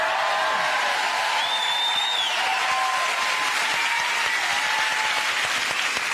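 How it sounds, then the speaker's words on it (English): A television studio audience applauds loudly and steadily throughout, dense clapping with a few whoops and cheers rising above it, with no talking. "a very excited audience have just applauded a bit of plastic"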